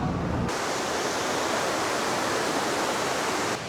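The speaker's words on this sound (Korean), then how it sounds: "돈 없는 나한텐 이게 폭포야" Rushing water from a waterfall in Sapa, Vietnam: a loud, steady wash of broadband noise that fills nearly the whole moment, starting and stopping abruptly, with no voices.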